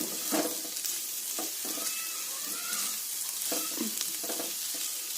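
Mixed vegetables sizzle in a pan as coriander powder, cumin powder and garam masala are stirred in, with a steady frying hiss and repeated scraping strokes of the spoon.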